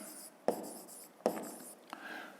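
A pen writes on paper in a quiet room, a few short scratchy strokes with small taps as the tip touches down, close and faint.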